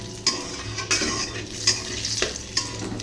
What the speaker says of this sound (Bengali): ফোড়নটা একটু ভাজা হয়ে গেছে